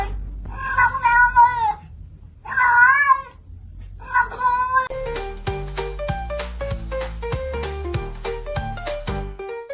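A cat meows three times, loud, drawn out and close, before bright music with plucked notes takes over.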